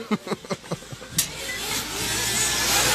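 In the pit area at the Grand Prix de Montpellier 2019, a stalled race car's starter cranks in several quick close bursts before the engine catches and builds into a steady, growing roar.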